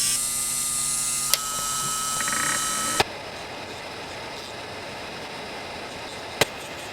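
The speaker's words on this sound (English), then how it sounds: "we have to file off all that gel so these nails look nice and perfect again" Electric nail file (e-file) grinding gel off nails: a steady high-pitched whirring drill tone with a few sharp clicks, then the motor stops and only faint background hiss remains with one more click.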